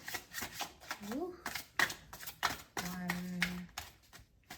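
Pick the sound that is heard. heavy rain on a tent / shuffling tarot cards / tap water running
shuffling tarot cards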